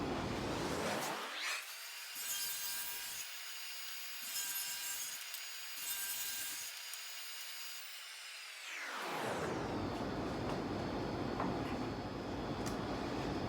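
Table saw ripping wood strips for console table legs: a loud motor whine spins up, the blade bites and cuts through several times over about seven seconds, then the motor winds down, with no talking.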